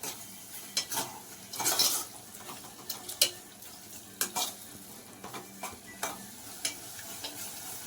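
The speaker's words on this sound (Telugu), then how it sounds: "ఇది కాస్త ఒక 2 సెకండ్స్ ఇలా ఫ్రై చేసుకొని ఇందులో వాటర్ వేయాలి." Red chilli powder fries in an egg tomato curry base, a soft steady sizzle broken by repeated sharp scrapes and knocks of a spoon stirring against the pan.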